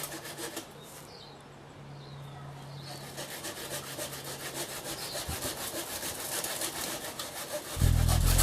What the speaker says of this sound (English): the fronds of this palm, I'm just going to saw them off